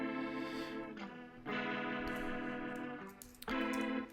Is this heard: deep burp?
no